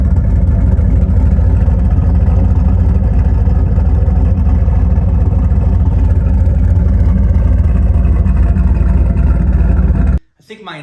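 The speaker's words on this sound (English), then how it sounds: "It idles really well." A BMW E36 with a turbocharged LS V8 swap and a stage 1 turbo cam idles steadily up close, a smooth, even low rumble that holds for about ten seconds before cutting off abruptly.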